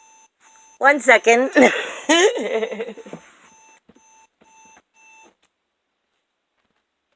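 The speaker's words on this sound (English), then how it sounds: "Sorry, my alarm was going off." An alarm beeps in short repeating tones under a woman's speech, then keeps pulsing faintly on its own before it stops.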